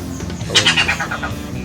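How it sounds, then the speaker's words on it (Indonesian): A loud red-headed cirik-cirik kumbang bird call up close, a fast rattling series of shrill chirps descending over about a second against a hissy background. "ini dia teman, suara cirik-cirik kumbang. Kicauannya sangat lantang dan sangar"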